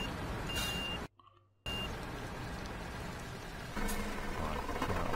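Garbage truck in the Cityconomy game, with a continuous engine rumble, a brief reversing beep near the start, a short dropout, then the engine swelling slightly louder toward the end.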